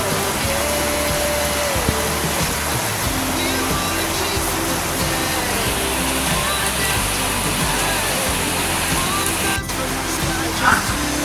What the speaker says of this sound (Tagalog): Ang grabe yung lakas ng ulan.